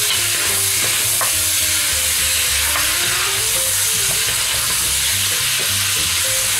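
Tomato paste is worked into lamb browning in a pan for navarin d'agneau, producing loud, close sizzling and frying with repeated scraping and stirring strokes that keep up without a break.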